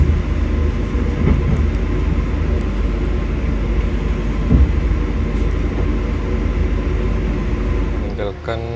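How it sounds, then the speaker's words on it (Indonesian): The Progo passenger train rolls into Bekasi station with a constant heavy rumble and drone of rail car noise. It sounds close and steady, and an announcement voice comes over the top at the end. "kereta api Progo telah memasuki stasiun Bekasi"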